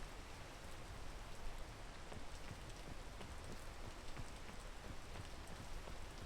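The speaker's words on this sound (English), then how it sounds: "I need the rain to stop so I can tell." Steady rain falls continuously in the video game PEAK, a dense hiss of drops with faint scattered patters, soft and even throughout.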